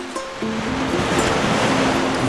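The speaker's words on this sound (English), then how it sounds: "The sound of the ocean soothes my restless soul." Ocean waves washing onto a white sandy beach in Hawaii, a loud, steady, continuous rush of surf with no voices.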